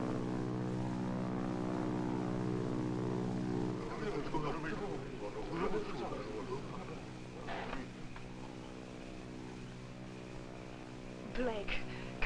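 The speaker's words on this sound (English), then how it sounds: "Might be Army planes." Propeller-driven army planes drone overhead in a 1947 adventure film, a continuous engine roar holding steady while people talk over it.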